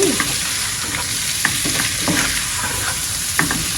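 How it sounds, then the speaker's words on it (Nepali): Boiled potatoes being gently stirred and fried in a pan for khichdi, a steady close sizzle with soft, irregular scrapes of the spoon every second or so and no voices. "अब यसलाई मजाले चलाउँदै हल्का हातले चलाउनुपर्छ।"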